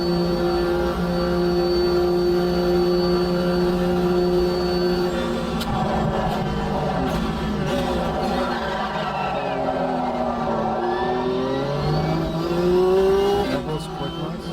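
A race car engine in a Le Mans racing video game, loud sustained droning with pitch sweeping up and down through gear changes, with someone talking intermittently over it.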